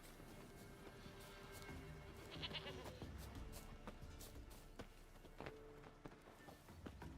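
A goat bleats in the video game The Witcher 3, with a few faint bleats over soft game ambience and light footsteps or movement, and no speech.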